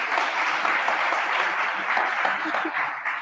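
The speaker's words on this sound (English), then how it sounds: "Could you please do another applause?" A room of attendees at a Python get-together claps together in a steady burst of applause, moderately loud and evenly sustained before fading slightly at the end.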